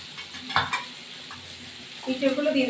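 Boiled young jackfruit tips into a hot pan of onion, garlic and ginger, a couple of sharp clattering knocks of stirring followed by a rising oily sizzle near the end.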